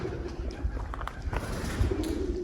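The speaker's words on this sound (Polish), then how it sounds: "Nie wchodzę, bo jest dużo gołębi" Pigeons coo in soft, repeated low calls close by in Sicily, overlapping one another against a quiet background hum.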